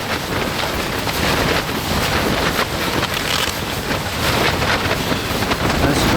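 Strong, steady wind roaring high on Manaslu in the Himalayas, a continuous broadband rush buffeting the microphone without letup and with no voices.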